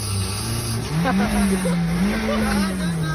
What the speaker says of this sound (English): Keep it, rev it high and then you put the car off and on.